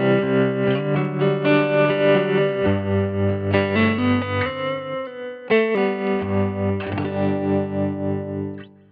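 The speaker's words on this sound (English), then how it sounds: "Kick that tremolo on" Electric guitar chords through a Helix modeler's Princeton Reverb amp model ring out with a pulsing, wavering tremolo effect, sustained and lush, with a fresh strum midway before fading.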